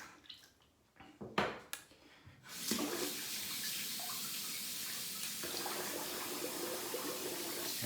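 Water from a tap runs steadily while shaving gear is rinsed, a broad close hiss that starts after a few brief knocks and splashes and continues to the end.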